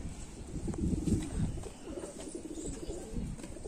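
Sialkoti pigeons cooing in low, soft, repeated murmurs that run steadily throughout, fairly close and moderately quiet.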